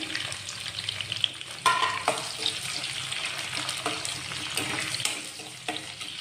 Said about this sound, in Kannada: ನೋಡಿಲ್ಲಿ ಎಣ್ಣೆ ಬಿಸಿಯಾಗಿದೆ. ನಾನಿಲ್ಲಿ ಕಟ್ ಮಾಡ್ಕೊಂಡಿರೋ ಈರುಳ್ಳಿನ ಹಾಕ್ತಾಯಿದ್ದೀನಿ.